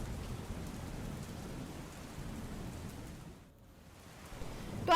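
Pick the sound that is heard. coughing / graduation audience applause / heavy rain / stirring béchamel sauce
heavy rain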